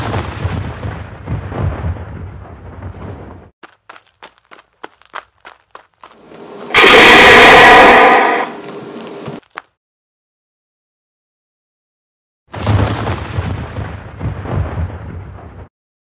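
Musket volleys fired on command in a reenactment of the Lexington battle, heard as a loud sustained roar of gunfire after a series of short sharp pops, with shouting voices before and after.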